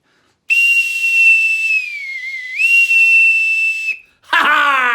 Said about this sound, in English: The bosun's whistle.